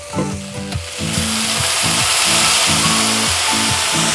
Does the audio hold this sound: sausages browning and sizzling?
yes